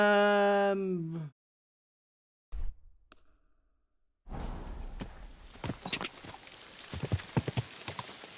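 Horse hooves clip-clop on the ground in Kingdom Come: Deliverance 2, a steady run of close, crisp footfalls starting after a brief tonal cry and a few isolated knocks.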